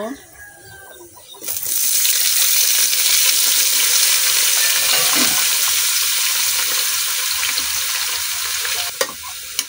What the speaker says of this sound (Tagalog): Lagay ko na ang talong